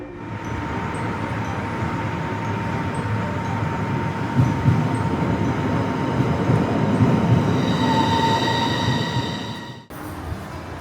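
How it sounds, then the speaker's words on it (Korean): The first subway train of the day slowly entering a station platform, a steady loud rumble of wheels and motors with a high whining tone building and rising squeals near the end, no voices. "하루를 시작하는 첫 열차. 천천히 플랫폼을 향해 진입합니다."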